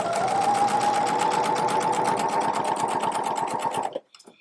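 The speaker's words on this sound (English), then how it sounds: "I'm going to sew all the way around the top." A sewing machine stitches around the top casing of a fabric drawstring bag, a steady rapid mechanical whirring and ticking close by for about four seconds before stopping abruptly, followed by a few faint clicks.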